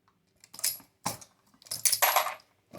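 Loose 9mm brass cartridge cases clinking and jingling together nearby in three bright metallic bursts, the last longest and fullest, with quiet gaps between and no talking.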